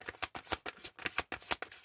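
Oracle cards being shuffled by hand, a steady run of crisp, papery riffling bursts repeating about every quarter second, close and fairly quiet with no talking.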